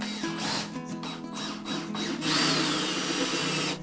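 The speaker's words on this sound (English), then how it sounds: "A couple pilot holes. And I'm just using some 2-inch screws to hold this together." A power drill drives 2-inch screws into a wooden beehive quilt box: short whirring bursts rise and fall, then a longer, louder run of screwing close by, with no talking.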